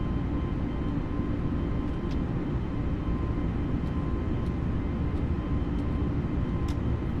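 An Airbus A320neo's jet engines hold climb thrust just after takeoff from Halifax, a steady, heavy low rumble and roar heard from inside the cabin, unbroken throughout.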